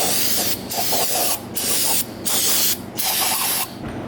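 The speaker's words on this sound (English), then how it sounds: "Brake cleaner off in a second." Brake cleaner sprayed onto an engine part for an LS Miata build, five loud close hissing bursts of about half a second to a second each, separated by brief gaps, with no voices.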